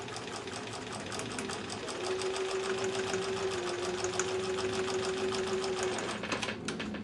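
A sewing machine stitches the seams of a mini mosaic quilt block, a close, steady, rapid mechanical whir with a faint hum. The run continues without pause and then slows near the end.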